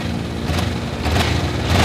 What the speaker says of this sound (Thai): มาฟังเสียงท่อคันนี้กัน สตาร์ทติดง่ายครับ รอบเดินเบานิ่งกับตาเร่ง